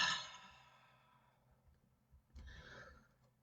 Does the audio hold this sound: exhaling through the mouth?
yes